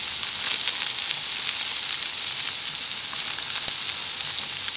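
Blackened catfish sizzles in a hot pan as fat burns off, giving a steady, loud, close frying hiss that runs unbroken throughout with no talking.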